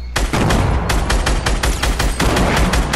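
Rapid bursts of Fortnite gunfire crackle loud and continuous for a few seconds, dense overlapping automatic shots with no pauses.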